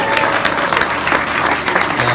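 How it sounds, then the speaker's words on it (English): An audience claps steadily at an event near a hospital, dense continuous applause filling the room at close range with no voices over it. "So give them a round of applause really quick."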